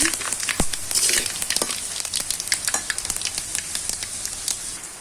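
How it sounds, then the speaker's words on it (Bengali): Dried chillies and panch phoron spices fry in hot oil for a mango pickle, giving a steady close sizzle broken by sharp crackles and the scrape of a stirring spoon. "শুকনো মরিচ দিয়ে দিতেছি পাঁচ ছয়টা দেন একটু লাড়াপাড়া দিয়ে নিব"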